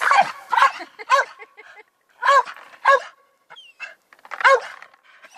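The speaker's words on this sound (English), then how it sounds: "You watch him bark if I don't throw it." A dog by the river Don barks in short, loud clusters of two or three yips and barks separated by pauses, with a few whimpering notes between the bursts.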